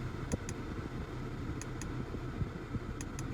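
Small crisp clicks of tactile seat control buttons in a Porsche Panamera come in pairs at intervals, close and quiet, over a steady low car hum with no talking.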